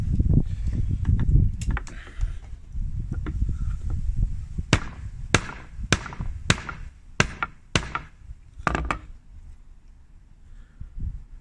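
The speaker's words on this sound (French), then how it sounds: "avec votre marteau, vous venez sertir le grain, la petite pointe en fait qui se trouve derrière, avec un petit coup de marteau" Sharp metal taps from a small hammer crimping a contact blade on a Gottlieb electromechanical pinball coin door, a steady series of separate strikes after some low handling noise, close and loud.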